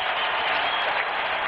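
Fans on their feet at Enron Field keep up a loud, sustained roar of cheering and clapping, a dense, even wall of crowd noise throughout.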